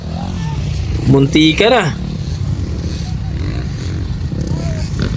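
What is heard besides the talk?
250cc racing motorcycles on a racetrack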